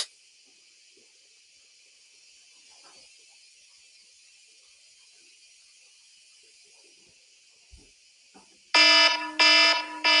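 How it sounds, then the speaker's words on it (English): A 10-second quiz timer counts down under a quiet steady hiss, then ends in a loud electronic alarm that blares in three sharp bursts. "So, that was the 10 seconds timer."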